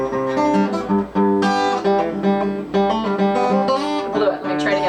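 An electric guitar plays an intro lick, a busy run of plucked notes over ringing chords, loud and close with a steady rhythmic pattern.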